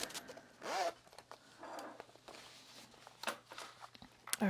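A zipper on a convertible bag being sewn is handled in short, quiet bursts of zip pulls and rattles, close by, with soft handling noises between them.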